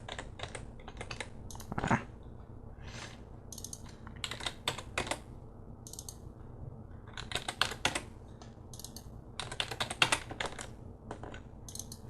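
Number entries typed on a computer keyboard while setting up a Jands Vista lighting console with Capture: bursts of close, crisp key clicks in irregular clusters with short pauses, over a low steady room hum and no talk.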